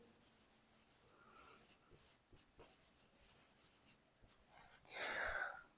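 Chalk or a marker taps and scratches across a board in short bursts of writing, quiet and close, with a few faint breaths between strokes.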